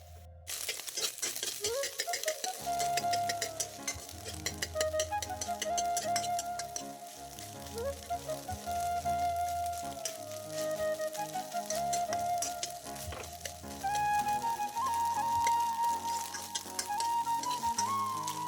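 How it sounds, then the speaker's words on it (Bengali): Two beaten eggs frying in oil in a home kitchen pan for chowmein, a continuous crackling sizzle with sharp pops and spatters throughout, close and clear, with no talking. "ডিম দুটি ভাজা হয়ে গেছে এখন নামিয়ে নেব"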